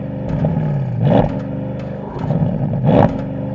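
A Porsche Panamera Turbo engine repeatedly revs up loudly against a 3,000 RPM soft limiter, with close, rising surges about every two seconds that fall back to an idle hum between bursts.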